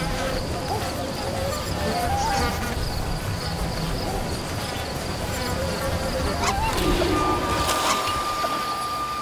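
Insects buzz steadily around a beehive in the video game Ancestors: The Humankind Odyssey, a dense loud drone with faint tonal game sounds over it.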